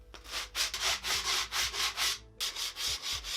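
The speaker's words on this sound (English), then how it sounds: "Sand these edges a little bit." Wood edges being sanded by hand with a strip of skateboard grip tape, a steady back-and-forth rasping of about a dozen close strokes with one brief pause midway, no talking.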